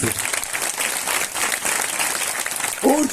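Thick, sustained clapping from a worship congregation at a spiritual fellowship gathering in Umarpada fills the space evenly, and a voice cuts in briefly over it right at the end.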